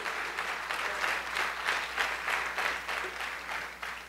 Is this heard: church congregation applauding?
yes